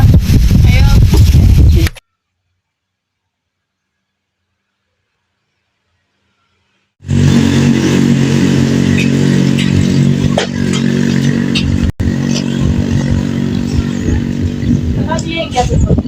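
A motorcycle engine roars loud and close with a rough, steady revving drone after a brief cut to silence, clattering under voices at the start.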